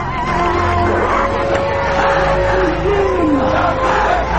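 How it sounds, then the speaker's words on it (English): A massed crowd in Tehran chants in unison after Friday prayers, a loud, continuous roar of many voices with rising and falling shouts that fills the whole stretch. "Every Friday after prayers, crowds chant "Death to America.""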